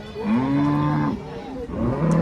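Holstein Friesian cows at a cattle market give drawn-out moos, one long low call followed by a shorter one, close and clear against a noisy background.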